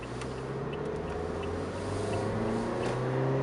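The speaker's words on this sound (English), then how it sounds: "We'll pull out now using our mirrors." A 2015 Toyota Yaris pulling out of a parking space, giving a steady low engine hum that swells slightly toward the end, heard close with no talking.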